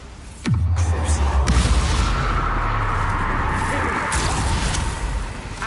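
A Bombarda spell in the Hogwarts Legacy game goes off with a sharp descending whoosh into a heavy boom, followed by several seconds of sustained loud rumbling with a few crackling hits.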